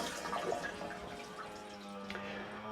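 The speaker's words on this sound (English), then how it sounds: "We want to just let this drain for a few minutes. Just make sure all the water gets out of there." Water drains from a Navien tankless water heater with a faint, continuous trickling gush and a thin ringing tone, steady and unbroken, with no one speaking.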